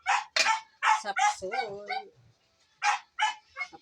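A dog barks and yips in short bursts while being fed leftover sautéed food, close by, alternating with a person speaking.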